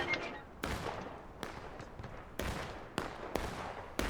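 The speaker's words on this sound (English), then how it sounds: "And they're getting targeted by artillery" Cannon fire in a Civil War battle video game, with heavy blasts repeating at irregular intervals of roughly a second over a steady background rumble. It is loud and close, and no one talks.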